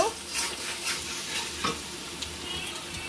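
Chili powder and salt are stirred into goat lung curry in a pan, a soft continuous sizzle with occasional scraping stirs and light clinks, fairly quiet and close.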